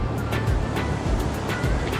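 Fast-flowing water rushing through the Dadupur barrage on the Yamuna at Yamunanagar, a steady, loud, continuous roar with no talk.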